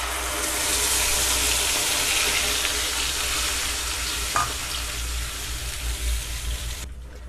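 Ground roasted masala hits hot oil with cumin while making matar paneer, giving a loud, continuous sizzle and crackle with brief stirring scrapes, heard close and alone throughout.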